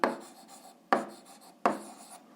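A pen scratches across paper during an eighth-grade algebra exercise, in three strokes of writing that each start sharply and then fade, close and clear with no talking.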